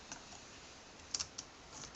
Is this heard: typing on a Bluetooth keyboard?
yes